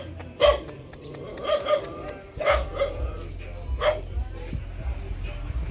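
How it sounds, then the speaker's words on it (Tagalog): A dog barks nearby in several sharp, separate barks, with lower whimpering in between, while people talk over it outdoors. "Delikado yung aso mo, nay."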